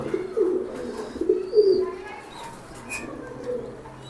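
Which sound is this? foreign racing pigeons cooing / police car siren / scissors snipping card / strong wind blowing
foreign racing pigeons cooing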